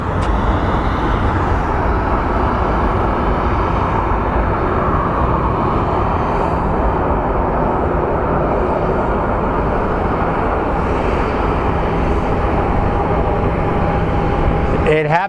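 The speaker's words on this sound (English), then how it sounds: "And there's our U.S. Marshals plane." A U.S. Marshals airplane at Phoenix Sky Harbor airport, a constant loud roar of jet engine noise filling the whole span, with faint talking underneath.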